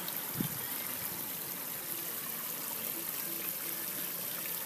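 Water trickles and flows steadily at low volume from a koi pond polygeyser filter, a soft continuous burble, with a faint thump near the start.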